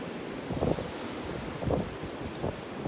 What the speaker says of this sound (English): It's pretty breezy out here already.